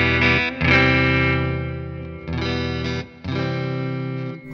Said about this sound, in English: listen to the high end as I roll the volume off